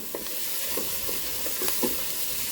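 Tomato paste cooking in a Ninja Speedi, a steady soft sizzle with a few scraping stirs of a utensil against the pot, close and fairly quiet with no talking.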